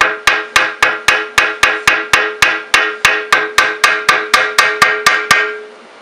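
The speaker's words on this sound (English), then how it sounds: "Get yourself a body hammer." A body hammer strikes aluminum sheet through a manila folder in a rapid, even series of about twenty loud, ringing metallic blows, close up, ending with a short fading ring.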